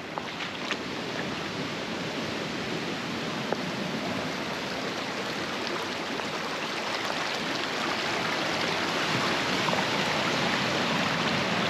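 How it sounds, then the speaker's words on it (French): Small river running out into the sea near an anchorage on a sailing route to Guadeloupe, a steady broad rush of water and surf heard at moderate distance, continuous and even with no speech. "Sympa cette petite rivière qui jette dans la mer là."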